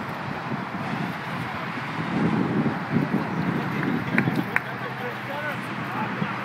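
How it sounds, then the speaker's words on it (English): Wind rushes outdoors on an overcast January day at a school tournament, a steady broadband buffeting under someone talking throughout, with occasional louder gusts. "Wind is kicking up."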